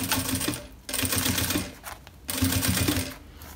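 A sewing machine runs in two bursts, joining two fabric pieces of a compact travel jewelry case, with a pause between the bursts. The stitching is loud and close.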